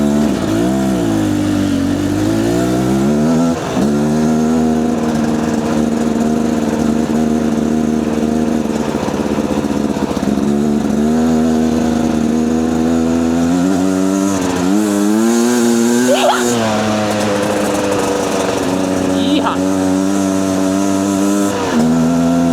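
Beta Alp motorcycle engine on a rainy green lane, loud and close throughout, with the pitch rising and falling as the rider revs and eases off, plus a few sharp revving surges.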